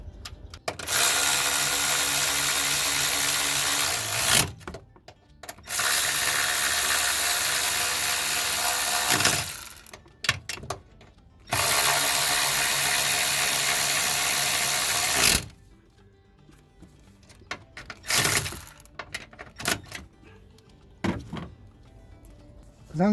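Ratchet wrench tightening three 10mm bolts on a car fuel filter, long bursts of rapid clicking ratcheting separated by pauses, close and loud, with faint handling noises in between and no talking.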